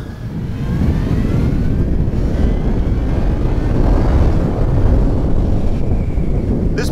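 A Yamaha FZ1 motorcycle, a first-generation model, pulls away on a brisk 54-degree day, its engine drone rising steadily under heavy wind rush at the microphone, loud and continuous throughout.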